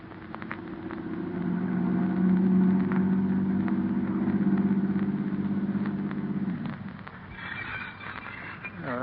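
A car engine hums steadily as it draws up, a radio drama sound effect, its low rumble sustained for several seconds before easing off into fainter mechanical noise.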